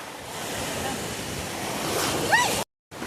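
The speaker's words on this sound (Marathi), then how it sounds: "खूप मोठं मोठं लाट." Ocean waves breaking on Malvan beach in India make a broad, continuous roar of surf with wind across the microphone, swelling toward the end before a short dropout.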